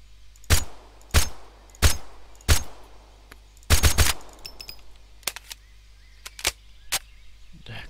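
A silencer-fitted pistol in Road To Vostok fires a string of sharp, muffled cracks. Four evenly spaced shots come first, then a quick double and scattered fainter pops over a quiet, steady hum.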